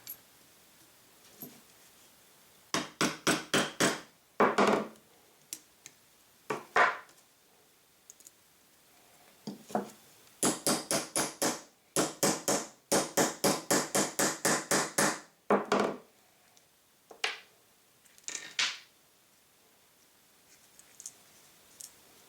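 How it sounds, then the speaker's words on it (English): Rapid bursts of sharp hammer taps drive a snap setter tool to fix a metal snap onto a strap, several quick clusters of close, crisp strikes separated by short pauses, with no talking. "use the snap setter tool to secure the snap"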